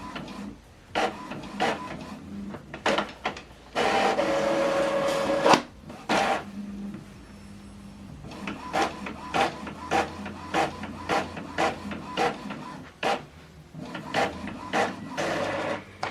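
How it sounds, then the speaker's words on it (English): An Epson WF2910DWF inkjet printer prints a two-sided black document, with repeated mechanical clicks, whirring feed motor runs and sheet-handling clunks in an irregular rhythm, heard up close with no talking. "Now this document is printing. We are printing this document two-sided,"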